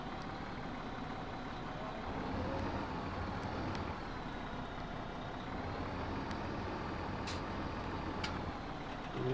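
A farm vehicle towing a trailer drives head-on into a shed, its engine a steady, close rumble throughout, with a few faint clanks and knocks.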